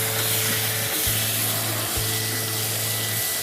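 Chicken pieces with chili powder frying in a pan, giving a loud, steady, dense sizzle throughout, with a low intermittent hum pulsing underneath.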